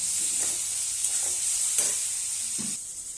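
A small amount of tomato frying in a pan before jackfruit curry is cooked, a constant bright sizzle with a few soft stirring scrapes, close and unaccompanied by talk.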